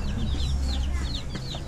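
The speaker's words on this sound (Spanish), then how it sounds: "¡Ay, los pollitos!" High, rapid peeping of chicks over a low, soft clucking from a hen, all close and continuous for a brief moment, in Viñales, Cuba.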